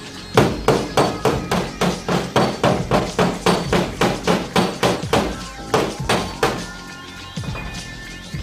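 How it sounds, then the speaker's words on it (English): A hammer strikes stretched sheet metal on a car body in bodywork repair, about twenty sharp metallic blows in a steady quick rhythm, close and loud, slowing to a few final hits. "take the hammer and hit around up here at the top and it might stay out"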